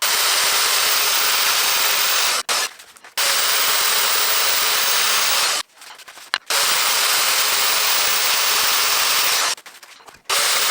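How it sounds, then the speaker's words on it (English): A bandsaw rough cuts a crankshaft balance weight with a loud, steady, gritty cutting whine, broken by three brief pauses where the blade noise drops away before resuming. "get this rough cut out on the bandsaw"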